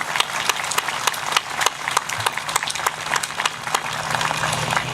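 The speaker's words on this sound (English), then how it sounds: "Please join me in giving them a round of applause." Audience applause at a Memorial Day 2018 ceremony in Saline, a steady dense clapping from a crowd that holds evenly for the full length with scattered sharper claps.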